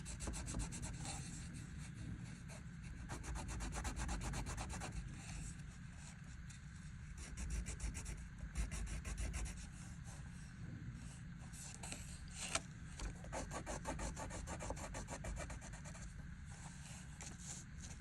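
White colored pencil shading across paper, a continuous soft scratchy rubbing with quick back-and-forth strokes, close and fairly quiet, steady for the whole stretch with no talking.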